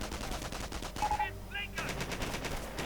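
Sniper gunfire in a World War II strategy video game, heard as sharp shots amid a busy mix of game combat noise, with some voice present throughout.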